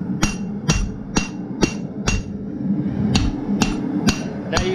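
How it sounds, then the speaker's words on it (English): A blacksmith hammers hot steel while forging a leaf on an anvil set on a stump, sharp ringing blows landing in a steady rhythm of about two per second, close and loud over a low rumbling background. "Now you see I'm turning the material as I'm hammering."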